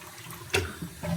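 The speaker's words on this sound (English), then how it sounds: "when you flush it, it's a very slow fill" Kohler toilet tank refilling slowly after a flush: a steady, faint trickle of water runs close by, with a brief louder gush partway through and soft gurgles toward the end.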